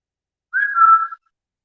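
A single person whistles one sustained, steady tone lasting about two-thirds of a second, clear and fairly loud against near silence, during a paranormal investigation at Fishbourne Roman Palace.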